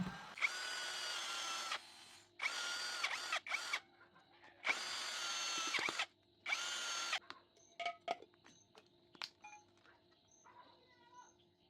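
A power tool cuts into the top of a car steering wheel to make room for a music board, whining in five loud close bursts separated by pauses, followed by scattered clicks and handling sounds.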